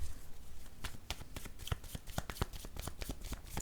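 Cards from an association oracle deck are shuffled and handled close by in quick, crisp bursts of flicks and riffles, an uneven run of sharp papery snaps that sounds alone with no voices.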